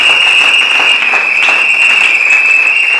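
A church congregation at a wedding service applauds continuously, a dense, loud wash of clapping with a steady high tone ringing through it.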